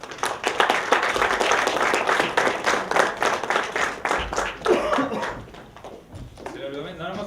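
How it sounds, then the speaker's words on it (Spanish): Students in an academic week audience clap to welcome a guest speaker, uneven rhythmic clapping up close that thins out before talk resumes near the end. "un aplauso."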